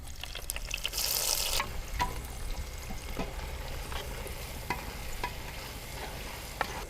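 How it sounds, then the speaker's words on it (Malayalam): Onions dropped into hot coconut oil in a clay pot give a faint, steady sizzle with a short louder burst near the start and a few soft scrapes and knocks, no voices. "നമുക്ക് ഇനി ഉള്ളി ഇട്ട് കൊടുക്കാം."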